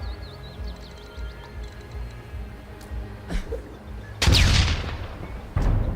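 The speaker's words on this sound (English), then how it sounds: "I'm just throwing a grenade at it." Grenade blasts in the turn-based video game Lamplighter's League, heard as a sharp boom and burst of debris followed by a second shorter crack, over a faint game backdrop with a few small clicks and chirps beforehand.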